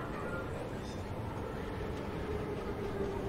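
A subway train ride in the video game Soma gives a steady, loud rumble and rolling hum that holds evenly from start to end, with no voices over it.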